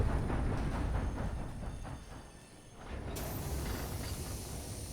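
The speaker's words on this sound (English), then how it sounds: "Stop the train." A train in a video game rumbles along with a steady, dense mechanical clatter that dips briefly and then returns at full strength.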